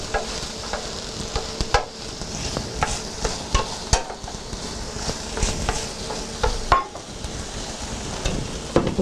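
A spoon stirs dark molasses and boiling water into shortening and sugar in a kitchen bowl, making repeated wet squelches and irregular clinks against the bowl.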